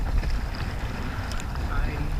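Gusty wind buffets a kayak on open water in rough, changing conditions, a steady low roar of wind noise with splashing and rumble, continuous and loud close to the microphone.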